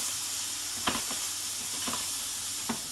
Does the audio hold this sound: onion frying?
yes